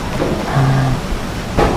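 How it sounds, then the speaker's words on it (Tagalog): Heavy rain pours down steadily during stormy weather in Negros, a dense, even wash of noise with a low hum underneath and a brief louder surge near the end. "Ngayon, bubuhos na naman po yung ulan."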